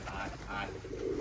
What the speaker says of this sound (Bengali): কবুতরে হামর কামড় করে খাবে